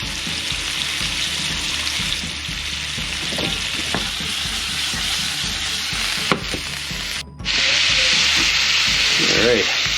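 Marinated sharptail grouse frying in a pan, a steady close sizzle with stirring and scraping throughout, a brief clatter near the middle and the sizzle swelling louder toward the end.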